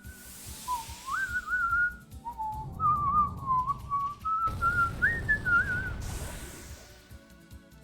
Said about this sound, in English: whistling in game OSTs is always very nice